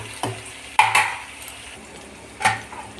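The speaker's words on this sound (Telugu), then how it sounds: "ఇప్పుడు ముక్కలు మొత్తం ఇట్లా వేసుకున్నాం కదా, ఇట్లా కాస్త వేగనియాల" Vegetable pieces frying in a pan with a few scraping stirs and utensil clinks against the metal over a low steady sizzle, close and moderately loud with no talking.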